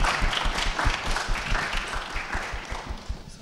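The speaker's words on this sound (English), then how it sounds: "Please give them a round of applause too." A crowd applauds guests at an evening community gathering in Moorhead, with steady, dense clapping that fills the room and holds for a few seconds, fading slightly toward the end.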